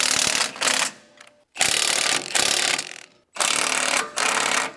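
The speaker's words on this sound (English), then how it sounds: "let's go ahead and tighten it up with our 1/2-inch impact and our wrench." A 1/2-inch impact wrench hammers an axle nut tight on a Tilmor 520 tractor in three loud, close bursts, each rattling for about a second with a brief pause in between and short gaps separating the bursts.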